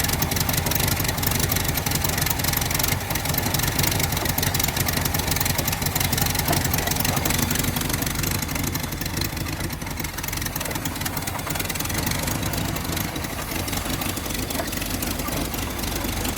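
A swapped-in V8 engine idles in a 1982 Chevrolet S-10 that had been off the road for 19 years, with a loose belt flopping around. A loud, steady, close-up rumbling idle runs continuously without a break.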